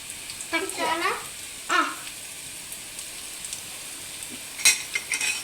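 Okra pieces frying in a pan with turmeric are stirred, with a few scraping strokes of the spoon over a soft sizzle, then a sharper clatter near the end, close and moderately loud.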